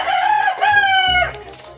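A rooster at a cockfight venue lets out one loud, close cock-a-doodle-doo in rising and falling segments, with faint background noise and no talk over it.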